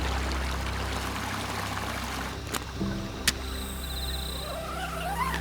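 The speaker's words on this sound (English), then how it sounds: "nothing beats a cold creek in the shade" A cold mountain creek flows in the shade on a solo hike, a steady close trickling and pouring of water with a couple of sharp knocks and faint bird chirps over it.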